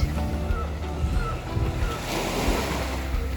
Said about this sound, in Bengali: ঢেউয়ের আওয়াজ